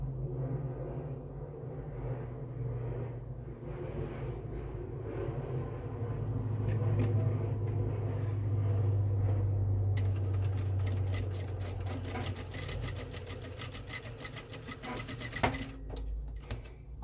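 A sewing machine stitches closed the sides of a small white Christmas piece, a steady mechanical whir with rapid needle clatter that runs continuously and grows denser and louder toward the end, with no talk.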